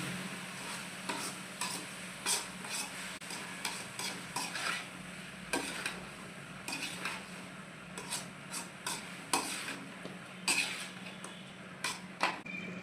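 Ginger garlic paste frying in a pan for a Tamil-style chicken gravy, with a steady low sizzle under repeated scraping and stirring strokes, close and moderately loud, no talking.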